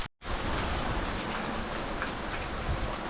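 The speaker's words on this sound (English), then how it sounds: "It's raining." Rain falls steadily by an old barn, a dense even hiss that starts abruptly after a brief silence and continues unbroken.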